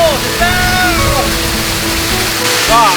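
Steady rushing water of a waterfall near the Moei River on the Thai–Myanmar border fills the background, broad and constant, while a voice speaks over it.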